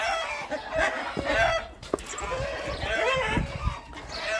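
Chickens clucking and fowl calls close by, mixed with busy farmyard noise and a few other bird sounds, with geese and turkeys kept together nearby.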